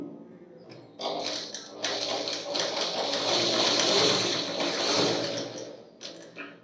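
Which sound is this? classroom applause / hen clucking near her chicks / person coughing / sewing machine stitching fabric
sewing machine stitching fabric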